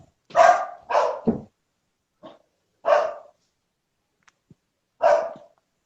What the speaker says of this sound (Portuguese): Só um pouquinho, que tem um cachorro latindo.